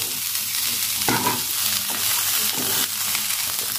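Leunca berries stir-fried in a pan with sliced red and green chilies, a steady close sizzle with scraping stirs of a spatula and bursts of louder frying, no voices.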